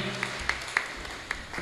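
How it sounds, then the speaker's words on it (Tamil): An audience at a Tamil debate stage event claps to welcome speaker Anandavalli, giving a few sparse, separate claps over a low room murmur with brief voice traces. "நல்ல கைத்தட்டலோடு வாங்க"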